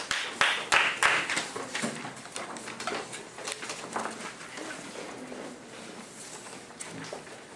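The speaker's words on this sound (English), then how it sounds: "When I clap my hands." A teacher claps her hands in a classroom, a quick burst of several sharp claps near the start, followed by quieter rustling and small room noises.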